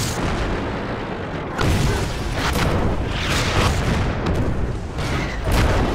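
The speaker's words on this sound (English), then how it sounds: "the artillery is actually getting in really close to me" Artillery shells burst close by in World of Tanks during a Pz38 light tank match, a loud, dense rumbling barrage of booms that swells twice, with no talking.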